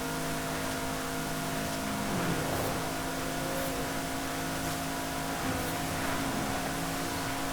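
A 1993 Jaguar XJ220S in the racing game Forza Horizon 5 drones steadily as it accelerates at full throttle without shifting gear, a constant, loud engine tone with no talk.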